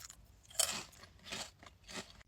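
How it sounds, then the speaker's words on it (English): Spicy pickle flavoured Hot Cheetos chips crunch in close bites, three crisp crackly chews spaced about evenly over a couple of seconds with no talking. "It's like spicy pickle chips with that signature hot Cheetos crunch."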